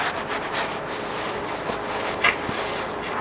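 Glue being wiped off the edge of a wooden plant stand with a cloth or rag, a steady close rubbing swish running throughout, with a couple of small knocks.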